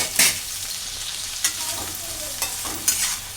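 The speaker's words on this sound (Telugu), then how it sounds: "బాగా ఫ్రై అవ్వాలి. మంచి గోల్డెన్ కలర్ అనేది వచ్చేయాలి. అందులో కరివేపాకు కూడా వేయాలి. వేసేసి కలిపేసుకోవాలి మంచిగా." Goat tripe (boti) frying with curry leaves sizzles steadily in a pan, broken by four sharp scrapes and clinks of stirring spread across the few seconds, close and alone.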